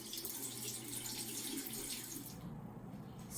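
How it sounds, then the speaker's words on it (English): Running tap water splashes steadily over a shell-less egg being rinsed, a continuous close hiss and gurgle at moderate level with no talking. "Let me quickly wash this in running water."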